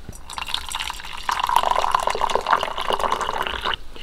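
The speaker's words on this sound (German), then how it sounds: "Der Tee ist fertig und ich schenke ihn jetzt ein" Hot tea streams steadily from a pot into a cup in a camper van on a cold morning, a close, continuous pouring and trickling that rises in pitch slightly as the cup fills.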